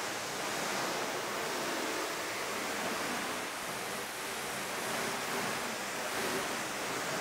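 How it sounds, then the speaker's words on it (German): Hard water jet rinsing a car's paintwork after a quick spray sealant, a steady, hissing spray heard close and continuous with no break. "im Anschluss spült ihr das dann direkt mit einem harten Wasserstrahl aus"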